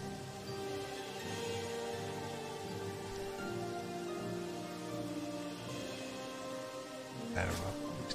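Steady rain falls across ruins in the video game Morrowind, a constant broadband hiss throughout with background game music beneath and a brief louder burst near the end.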